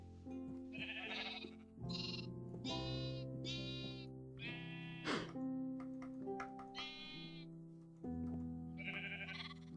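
Sheep bleating in the Terrafirma Punk video game, several long wavering bleats that follow one another across the stretch with short gaps, fairly loud and up close over a steady game background.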